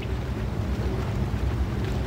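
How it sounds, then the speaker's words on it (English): A water wheel turns steadily in the Myst III: Exile video game, giving a constant low rushing, sloshing drone of water with no clear breaks. "here's the water wheel spinning right here"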